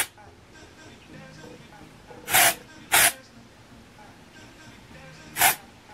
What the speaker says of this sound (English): I am going to spray my hair with some Batiste dry shampoo.